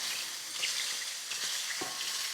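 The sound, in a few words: food frying and browning in oil in a pan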